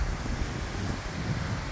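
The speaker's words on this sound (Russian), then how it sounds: "Ветер прям дует вот через эту трубу." Wind gusting steadily through a round pipe-like structure on the seashore of Hainan island in China, a close, continuous rumbling roar buffeting the microphone with no voices.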